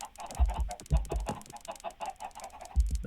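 Chickens in Minecraft cluck in short, choppy bursts, several overlapping and close, with a few louder thumping clucks scattered through the stretch.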